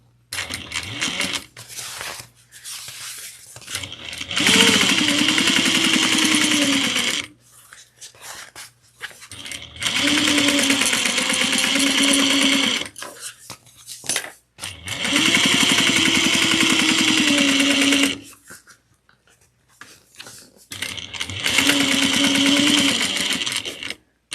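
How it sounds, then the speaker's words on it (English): A sewing machine top stitches a tote bag in four long runs of steady, whirring motor buzz, each lasting several seconds, with quiet pauses between them. "And then we're going to top stitch."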